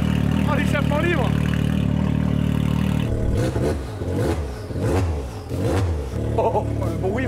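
Hybrid-turbo buggy engine with an open, catless exhaust settles from a steady idle into a series of sharp revs, loud and close, with people talking over it.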